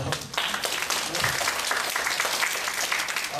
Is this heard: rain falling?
no